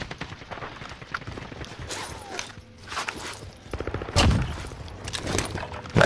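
Rapid bursts of video-game gunfire rattle in quick volleys, mixed with footsteps and scuffling, growing louder toward the end, with players briefly talking between shots.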